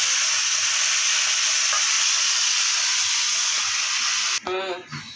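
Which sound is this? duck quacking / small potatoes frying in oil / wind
small potatoes frying in oil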